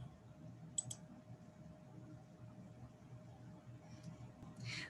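A computer mouse gives a quick pair of faint clicks near the start and another soft burst toward the end, set against a quiet room hum.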